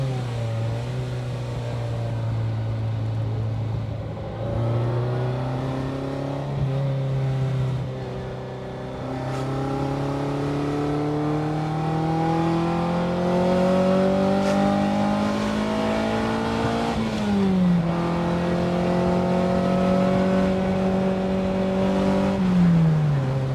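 A Swiss-linked Ferrari Enzo-based special sports car's engine revs up in long, rising sweeps, dropping back once midway before climbing again, loud, close and steady with no talking.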